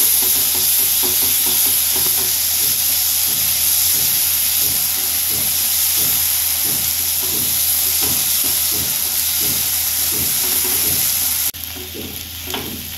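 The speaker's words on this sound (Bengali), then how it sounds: "ভাজা ভাজা করে নেব," Spice masala for a dhaba-style egg curry fries in a pan, a loud, constant sizzle with a regular rhythm of spatula stirs and scrapes, close up with no speech, the hiss dropping a little near the end.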